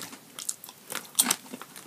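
Komeppusu rice chips in nori salt flavor crunch between the teeth in several light, crisp bites close up, each a short brittle crackle separated by brief pauses.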